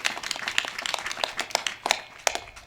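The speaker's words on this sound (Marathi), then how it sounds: "एकदा जोरात टाळ्या वाजवा या लेकरासाठी." An audience at a Marathi kirtan claps for a young boy: a burst of uneven, scattered handclaps at moderate distance that runs for a few seconds with no voices over it.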